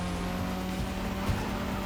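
A Mazda RX-7 drifts in The Crew Motorfest, giving a short burst of steady engine drone with a faint tire squeal and a small thump near the end.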